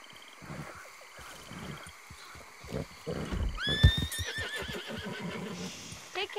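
A horse neighs and whinnies loudly in Red Dead Redemption 2, a sharp rising cry in the middle with hooves clopping around it, all set against the game's background ambience.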